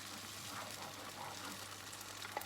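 Blitzed tinned tomato sizzling in a hot pan, a faint, even crackling hiss with a few small pops and spits toward the end, close but quiet, with no voices.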